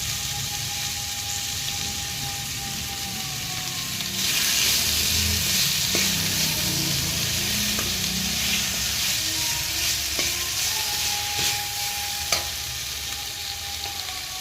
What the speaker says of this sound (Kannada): ಇದನ್ನು ಅರೌಂಡ್ 2 ಮಿನಿಟ್ಸ್ ಸಾಟೆ ಮಾಡ್ಕೊಳ್ಳಿ